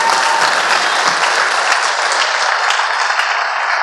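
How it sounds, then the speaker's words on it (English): Hands of a church congregation clap steadily and loudly through a Sunday night revival service, a dense, continuous wash of applause with a faint crowd murmur beneath and no distinct speech. "clap those hands one more time unto God"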